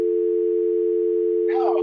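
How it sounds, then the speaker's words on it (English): Steady dial tone from a VoIP phone handset, a loud, even hum held without a break, with a brief bit of voice near the end. "I'll pick it up for a dial tone"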